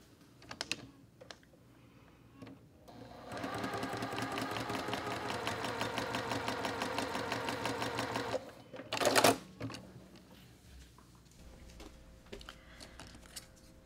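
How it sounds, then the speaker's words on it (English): A sewing machine stitches quilt block pieces directly on the drawn line, running in one steady rapid whir for several seconds, framed by scattered clicks and handling taps before and after. "we're going to stitch, now this time, directly on the line"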